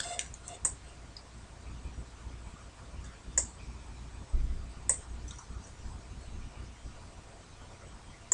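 Sparse mouse clicks in FL Studio 10, single sharp clicks spaced a second or more apart over quiet room hum, with no voice present.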